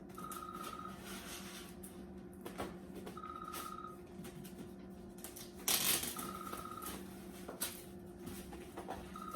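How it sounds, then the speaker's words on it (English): A work phone rings in soft repeated electronic bursts at regular intervals, faint under rustling and handling noises nearby. "Now my work phone's ringing."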